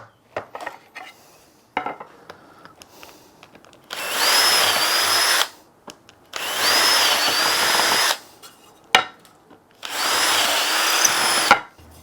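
A power drill drives 6-gauge 25 mm screws into the timber rails of a foot stool in three loud, sustained whirring bursts, separated by quiet clicks and handling noises.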